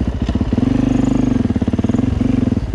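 A dirt bike, DRZ400E or EXC500, holds steady in third gear during a wheelie, its engine thumping in a low, even rhythm after a short rev at the start, loud and close with no talk.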